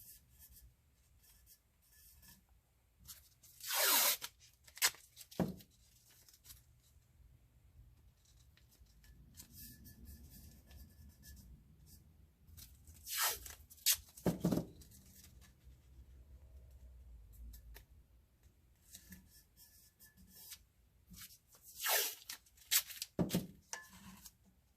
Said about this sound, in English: let's go ahead and add some tape in here